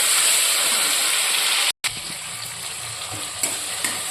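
Chopped tomatoes and chili fry loudly in a pan, a constant close hiss and sizzle that breaks off for a moment and then resumes with faint stirring knocks.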